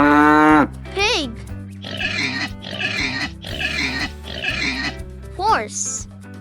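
Pig oinking for toddlers, four short grunting oinks in quick succession, close and moderately loud, framed by a sustained tone at the start and brief squeaky calls before and after.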